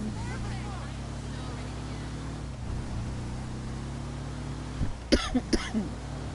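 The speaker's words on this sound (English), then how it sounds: "excuse my cough" Near the end, a few short coughs burst out over a steady motor-like drone from a Grand Theft Auto V game.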